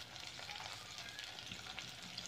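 Green chili sizzles in hot oil in a pan while preparing cauliflower fry, a faint, steady crackling hiss with no one talking.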